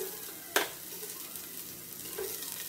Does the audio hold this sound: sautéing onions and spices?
yes